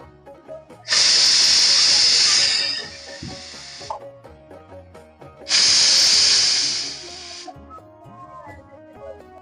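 Two long, loud bursts of hissing steam from a pressure cooker boiling taro, each lasting a couple of seconds and separated by a quieter gap with faint clinks and background noise.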